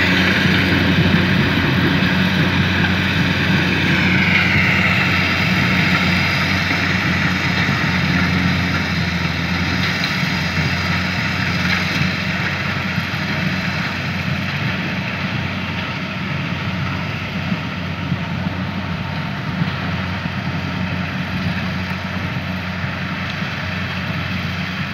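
A Kubota L5018 tractor hauling corn runs with a steady engine drone that holds evenly throughout as it circles the field, with no talking.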